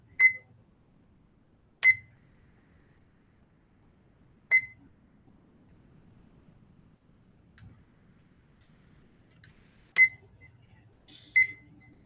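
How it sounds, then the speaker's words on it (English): A digital atomic clock gives short, sharp beeps while its settings are being changed, about six isolated electronic chirps spaced irregularly over quiet background, close by and with no speech. "We got the beep."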